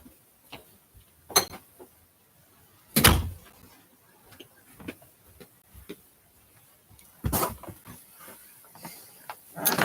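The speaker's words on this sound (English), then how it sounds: "I'm going to close my door really quick." An interior door closing with a few sharp thuds and clicks nearby, separated by quiet room tone and small handling ticks.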